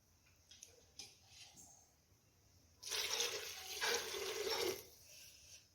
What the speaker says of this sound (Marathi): आता यामध्ये गरम पाणी टाकून घेऊया आपण